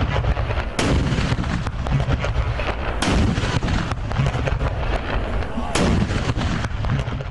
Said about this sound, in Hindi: हर साल की तरह आज के दिन का आगाज वफाकी दारुल हुकूमत में 31 जबकि चारों सूबाई दारुल हुकूमतों में 21-21 तोपों की सलामी से हुआ।